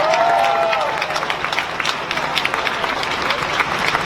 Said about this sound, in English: You can clap to that.